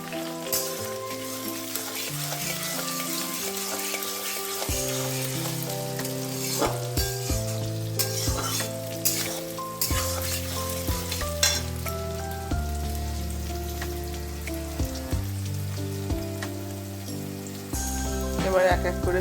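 Sliced onion dropped into a hot pan where chicken marinated with salt, turmeric and lemon juice is cooking; a close, steady sizzle runs throughout, with tonal background sounds layered over it.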